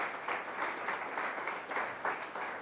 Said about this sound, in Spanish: Démosle un aplauso, Señor, por esas ilustraciones.